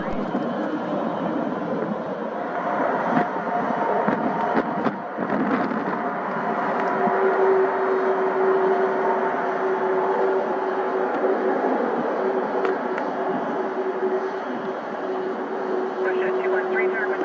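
A German Air Force Airbus A310 MRTT jet departing Calgary airport, a loud continuous engine roar that holds steady and swells slightly, with a tonal whine running through it and a few brief clicks from the recording.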